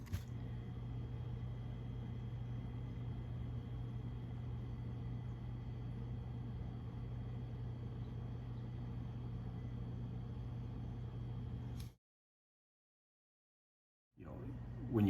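Polaris Sportsman 850 XP ATV engine, a 2013 model just refilled with fresh oil, idling with a low, even hum and faint rumble that holds steady, then cuts to silence before sound returns.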